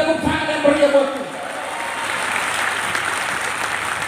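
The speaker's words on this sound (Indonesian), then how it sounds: "Berikan tepuk tangan yang meriah buat Tuhan." Congregation at a church service gives God a big round of applause, a dense steady clapping that fills the room and carries on after a short spoken lead-in.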